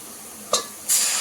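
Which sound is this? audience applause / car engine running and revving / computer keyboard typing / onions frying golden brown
onions frying golden brown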